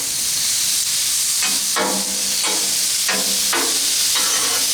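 Shrimp fajitas with garlic sizzle loudly on a Blackstone griddle in a constant hiss, while a spatula scrapes and stirs in several distinct strokes spaced about every second.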